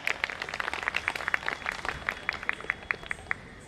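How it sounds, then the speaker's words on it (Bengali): A small audience claps for a dance performer at a cultural evening program, with sparse, fairly steady individual claps close by and no talk. "পায়েলদির জন্য একবার হাততালি হয়ে যাক।"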